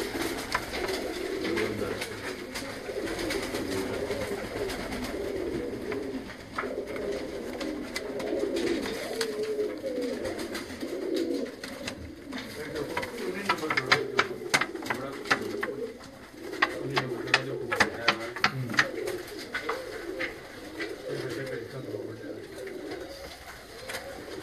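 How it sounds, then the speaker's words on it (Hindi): Pigeons of a prized black breed cooing together in a loft, a steady low murmur of overlapping coos with some wing and body shuffling noise around them. "बड़े शानदार कबूतर।"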